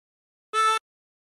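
One short drawn note on hole 10 of a sixteen-hole tremolo harmonica rings out near and clear, a quick reedy tone with a slight beating warble, surrounded by silence.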